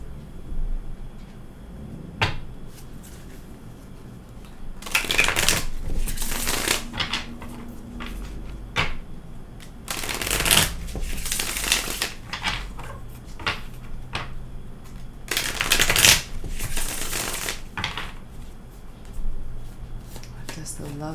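Tarot cards are shuffled in repeated crisp bursts of riffling and slapping, several loud clusters spaced a few seconds apart with quieter handling in between, close to the listener.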